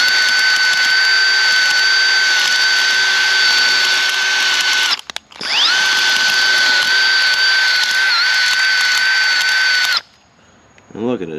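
A power drill spins a zip tie inside a VW carburetor to break up carbon chunks: a loud, steady high whine in two long runs with a brief pause between, then it stops and a voice speaks briefly.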